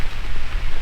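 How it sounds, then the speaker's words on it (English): Rain falls on a tropical beach as a loud, dense, steady hiss of drops close by, with no pauses and no voices, lasting under a second. "It's just started to rain again."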